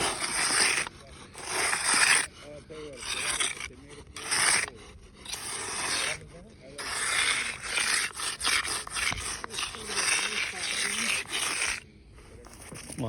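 A trowel or float rubs and scrapes a paste of concrete into a freshly poured tiny house slab on grade, giving rhythmic gritty strokes in repeated bursts with brief pauses, nearby and fairly loud, with some voices mixed in.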